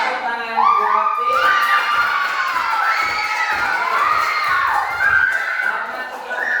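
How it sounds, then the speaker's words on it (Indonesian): A crowd of children shouts and cheers loudly and steadily at close range, with excited voices rising and falling throughout. "Tepuk tangan buat tim."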